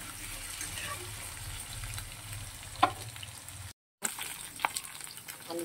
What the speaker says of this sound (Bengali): ভালো করে আলুটা লাল লাল করে ভেজে নেব।